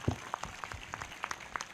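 Hands clapping during a thanksgiving prayer, a faint, fairly distant run of separate sharp claps in an irregular steady pulse, with little else audible.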